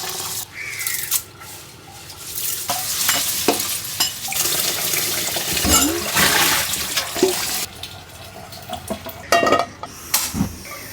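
Washed rice and whole red lentils are stirred and dry-fried together in a pan, giving a loud, close sizzle with scraping strokes and clattering utensil knocks throughout.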